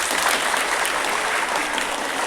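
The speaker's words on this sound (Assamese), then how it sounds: "তাৰ বাবে এই বাইদেউহঁতৰ বাবে তোমালোকে এটা সুন্দৰ হাত চাপৰি দিয়া" Dense, steady clapping from a crowd of college students at a campus event, sustained and fairly loud with no pauses across its short span.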